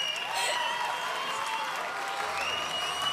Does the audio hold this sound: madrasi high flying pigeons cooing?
no